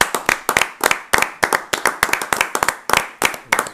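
A church congregation claps in praise of the Lord, brisk, loud hand claps in a quick rhythmic beat that repeat steadily throughout, close and with no talking.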